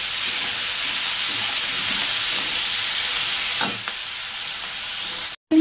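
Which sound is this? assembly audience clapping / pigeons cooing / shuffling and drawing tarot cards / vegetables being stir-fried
vegetables being stir-fried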